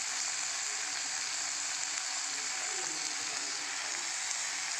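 Chopped tomato and green chilli sizzle with onion in a hot pan, a steady, fairly quiet hiss of frying that continues evenly throughout with no talking.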